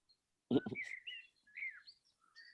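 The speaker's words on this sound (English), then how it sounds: "The birds at the moment are still feeding here. They're not singing too much." Birds in a rural area near the Nürburgring call while feeding rather than singing, with a few close, thin chirps and whistled notes scattered across a quiet background and one short low burst near the start.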